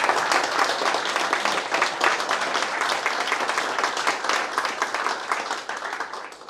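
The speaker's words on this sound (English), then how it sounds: "It's always great to receive applause." Audience applause after a talk on AI and Drupal, dense steady clapping from a sizable crowd filling the room for several seconds before tapering off at the end.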